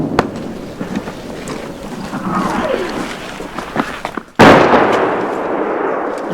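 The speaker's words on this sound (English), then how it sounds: "The shells start landing closer as the Russians adjust their aim." An artillery shell explodes near the Ukrainian front line at Virnopillia in Donbas: a single loud, close blast cuts through quieter outdoor ambience and rumbling, followed by a long roaring decay.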